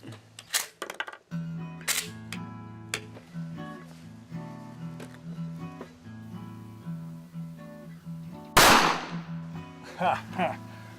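Shotgun slugs fired downrange from one gun at a single setting: one loud, sharp report bursts out near the end, with a fainter crack after it, while people talk throughout.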